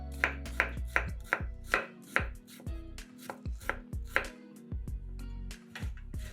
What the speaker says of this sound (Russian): Нарезаем кубиками огурец.